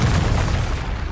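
A Confringo fire spell explodes in the Hogwarts Legacy video game as a loud, sustained booming blast that fills the whole moment and fades slightly at the end.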